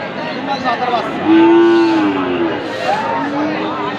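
A pure-bred Friesian bull calf at the Raniganj cattle market gives a loud, close, drawn-out moo, then a shorter second low call, against background market chatter.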